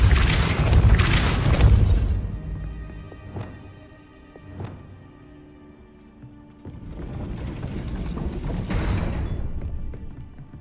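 Depulso spell cast in Hogwarts Legacy, with a heavy booming, mechanical clatter at the start, two short ticking clicks in the quieter middle, and then a broad rumbling swell that builds toward the end.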